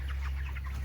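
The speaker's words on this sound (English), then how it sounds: "There's a couple of hens right there with a rooster in the back." Cornish Rock Cross meat chickens, hens with a rooster nearby, give a quick run of soft clucks over a constant low hum, close by and fairly quiet.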